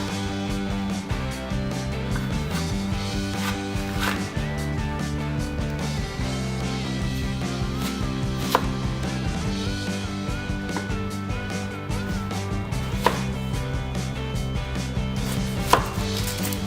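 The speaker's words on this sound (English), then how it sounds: "Cut an apple into 4 pieces." A knife cuts an apple into four pieces for a Korean boiled pork and seasoned radish recipe; a few sparse, sharp chops land under steady background music.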